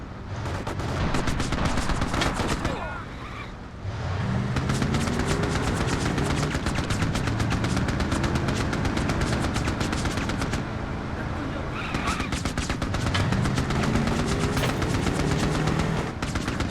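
Light machine gun fire in Mercenaries: sustained rapid bursts rattle loudly and close, with a short pause around the third second and another near the eleventh, each followed by more firing, while voices run underneath.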